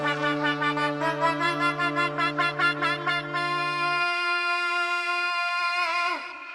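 A sustained, horn-like vocal theme made for the film Jailer rings out with a low drone beneath pulsing, rhythmic layered tones, loud and alone, ending in a held chord.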